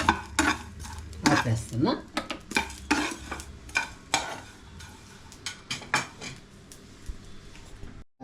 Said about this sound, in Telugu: చిట్టుపట్ట అంటుంది కదా గష్ గష్ కూడా.